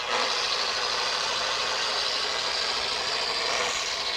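A car polisher spins at low RPM while spreading polish with no downward pressure, giving a steady, even whirring hum that holds constant and close throughout, with no talking.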